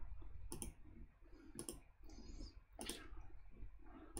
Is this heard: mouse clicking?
yes